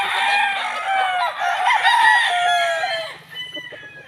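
Gamefowl roosters at a game farm crowing, with one loud, close crow over the first few seconds and fainter clucking and crowing after it.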